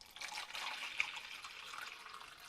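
Water poured from a container over hands during a snowy day, a steady soft trickle and splash lasting throughout at moderate distance, with no one talking.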